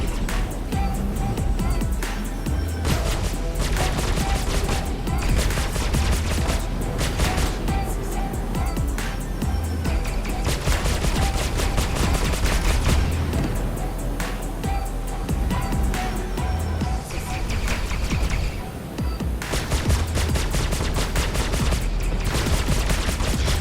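Ballistic cannon fire in the space combat game Star Citizen during a Drake Buccaneer versus Anvil Super Hornet dogfight: dense, rapid bursts of loud gunfire with impacts over a steady engine rumble, with brief pauses between volleys.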